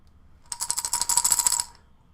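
Coins along with old nuts and bolts rattling and clanking in a swear jar, a quick burst of bright metallic jingling that lasts about a second, then stops.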